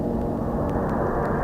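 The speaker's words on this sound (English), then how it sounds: "We're hearing the jet also fly over." Military jet passing overhead, a sustained low rumbling roar of engine noise that holds steady and fairly loud throughout, with faint higher ticks above it.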